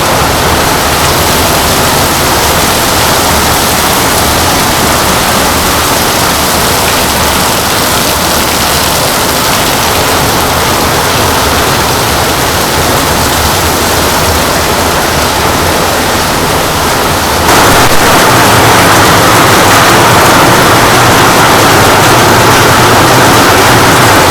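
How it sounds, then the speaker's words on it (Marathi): Heavy monsoon rain pours down on a market street in the Konkan region, a loud, steady roar of water that continues without a break and grows slightly denser near the end, with no voices. "जबरदस्त पाऊस चालू खतरनाक"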